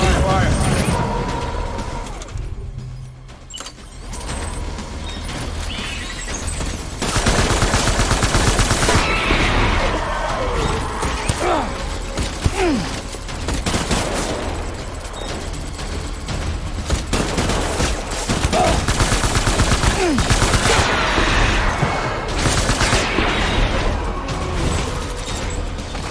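Gunfire rattles through a Death Stranding firefight in sustained volleys with mechanical clanks and scattered louder cracks, loud and continuous, with battle chatter and voices mixed underneath.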